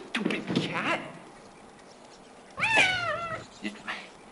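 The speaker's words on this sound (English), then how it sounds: "Yeah, you stupid cat." A cat in the horror video game Phantasmagoria gives one clear, drawn-out meow near the middle, following earlier spoken voices and trailed by a short faint sound.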